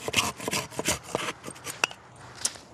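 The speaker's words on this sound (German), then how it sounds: "Die Klappsäge von Stihl ist klein und handlich." A small Stihl folding pruning saw cuts through a garden branch, producing close, rhythmic rasping strokes of teeth biting wood, back and forth in quick succession, loud and alone without talk.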